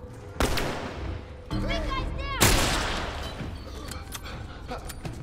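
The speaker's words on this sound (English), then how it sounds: "I think I set off all the bombs at once, didn't I?" Several bombs detonating in the game The Last of Us Part II: sharp loud blasts at separate moments, each trailing off into rumble and debris, with a voice talking between the explosions.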